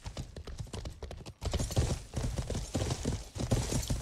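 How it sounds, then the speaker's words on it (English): Horse hooves clatter along a road in a video game, a rapid, continuous clip-clop rhythm at close range, galloping steadily with no voices over it. "Get on the horses and let's bounce."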